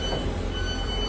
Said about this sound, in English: The approaching train is not scheduled to stop.